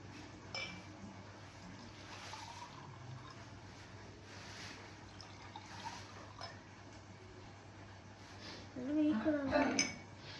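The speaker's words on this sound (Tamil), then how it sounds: "இதில் வந்து நம்ம ரெண்டு கிளாஸ்லேயுமே நம்ம பாதி தண்ணி ஆட் பண்ணணும்" Water poured into two glasses in turn, each filled about halfway for a home science experiment: a faint, steady trickle under room noise, ending in a brighter splash and a glass clink near the finish.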